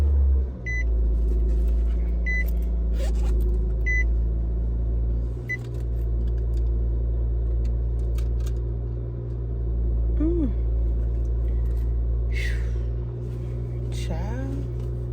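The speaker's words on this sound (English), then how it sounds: "let me start the car" A car engine starts up and idles with a low steady rumble, while a few short beeps and a person talking run over it.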